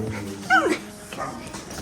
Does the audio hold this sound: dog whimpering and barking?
yes